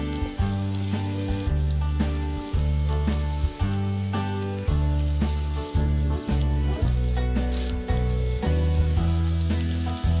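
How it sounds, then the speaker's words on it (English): Peppers, onions and chickpeas with garlic, chili powder and cumin sauté in a pan, giving a steady close sizzle under a repeating, stepped background hum, with no voices. "right now I just have some sauteing, some peppers and onions and chickpeas with some seasonings"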